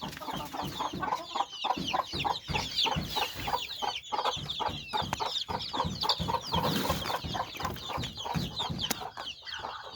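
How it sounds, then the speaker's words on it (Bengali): Super hybrid naked-neck chickens cluck rapidly and continuously at close range, with overlapping calls from several birds and no talking. "দেখুন, সুপার হাইব্রিড গলাচিলা মুরগি।"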